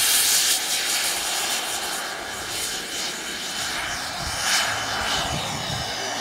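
An RC half-scale model of a T-33 Shooting Star jet trainer flies at a model airshow, its engine a steady loud roar with a broad hiss that swells and fades slightly as it passes.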